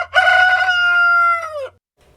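A rooster on a farm gives one loud, close cock-a-doodle-doo that holds a long strained note and then breaks off, leaving a brief quiet with faint low background hum.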